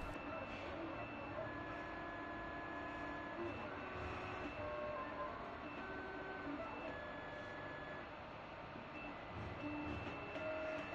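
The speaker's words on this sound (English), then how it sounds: "Now the cutter is engraving." Skycut cutting plotter with laser accessory engraving, giving a continuous mechanical whir and whine with shifting tonal beeps as the head moves, steady and moderately close.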